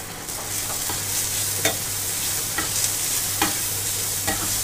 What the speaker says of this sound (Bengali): পেঁয়াজ আর ক্যাপসিকামটা এখানে সুন্দর করে আমি একটু সতে করে নিয়েছি